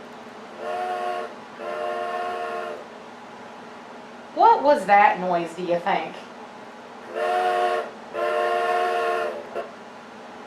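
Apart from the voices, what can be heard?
train with whistle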